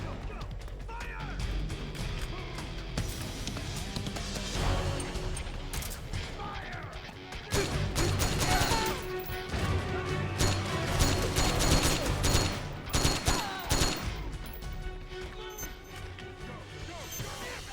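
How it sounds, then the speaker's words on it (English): Dense gunfire and bursts from the video game Metal Gear Solid 4, a chaotic battle of rapid shots, impacts and crashes throughout, with soldiers shouting over the din. "Suppressing fire!"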